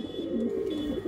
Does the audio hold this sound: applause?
no